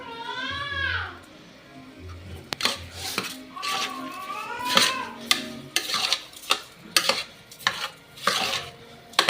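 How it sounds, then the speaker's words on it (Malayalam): Washed Sona Masoori rice tipped into a biryani pot, with metal clinks, stirring and scraping against the pot over a light sizzle; close and clear, with a voice speaking briefly at the start. "ഇവിടെ രണ്ട് അരി കഴുകി വെച്ചിരുന്നു, അത് ഇങ്ങോട്ട് ഇട്ടു."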